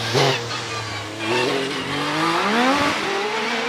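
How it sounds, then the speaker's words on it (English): A hillclimb race car with a 2.5-litre Cosworth V6 engine at Prescott, loud and close, revving hard through rising gear pulls with a raspy engine note and a brief tyre squeal. "Distinctive noise the V6 makes compared with the V8s."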